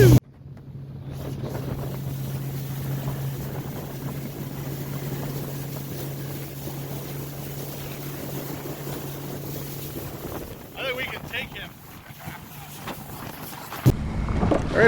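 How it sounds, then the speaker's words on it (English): Wind buffets a microphone aboard a boat heading up Narragansett Bay, a loud continuous rumble with a steady engine drone beneath, easing briefly near the end. "We're going to turn up into the wind here. I'm going to have to get my fluffy out for the wind."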